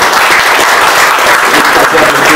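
Loud, dense applause welcoming lecturer Paulo Cotias at a training-course talk, a close, continuous wash of clapping with crowd noise throughout.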